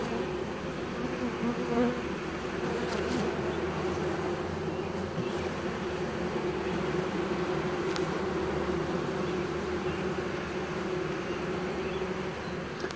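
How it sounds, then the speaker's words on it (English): Honey bees buzzing as they are coaxed down into a hive during installation, a dense, continuous close swarm drone with occasional louder passes of individual bees, no talking. "You just push your bees. Try to get them coaxed down in the hive there."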